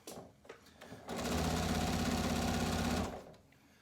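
A sewing machine stitches strips of quilt fabric together in one steady, loud, close run of fast mechanical whirring lasting about two seconds, with quieter handling noises before and after.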